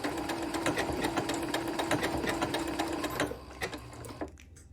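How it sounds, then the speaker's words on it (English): A sewing machine stitches around the edge of a fusible applique on a quilt, its rapid even mechanical chatter running steadily close by, then slowing to a few separate stitches before stopping. "Then we'll go ahead and we'll start stitching around the edge."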